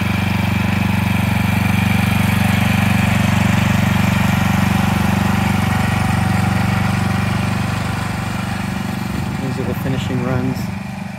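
Engine of an autonomous lawn tractor runs steadily at a loud, even idle-like drone close by, easing slightly toward the end as a brief mechanical whine shifts in.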